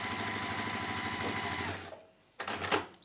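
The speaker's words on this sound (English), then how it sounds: "you can sew the blocks into pairs" A sewing machine chain-pieces zig zag quilt blocks in steady, fast stitching bursts, running close and loud for about two seconds, pausing briefly, then starting again.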